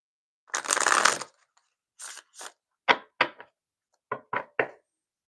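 Tarot cards being shuffled by hand: a dense rushing riffle of about a second, then a few short, crisp card taps and snaps spaced apart in quiet surroundings.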